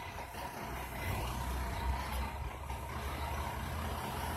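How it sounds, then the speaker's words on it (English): A fire engine company truck pulls away, a low diesel engine rumble that stays steady and fairly faint at a distance, with no voices. "Here's their truck leaving."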